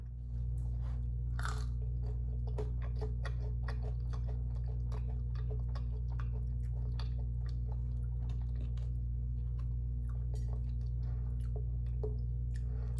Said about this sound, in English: You can never go wrong with the fry taste test, right?